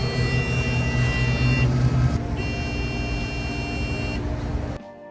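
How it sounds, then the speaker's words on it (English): An electronic mole deterrent sits in a garden bed, giving off a sustained electronic tone with a shift partway through before it cuts off near the end, nearby and fairly loud. "So as you can hear that beeping noise, this is a deterrent for moles."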